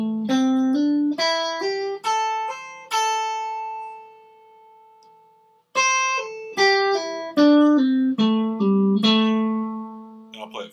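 A slow blues guitar line with pull-offs, single picked notes falling into one another in two descending phrases separated by a sustained note and a short pause, clear and close with no voice.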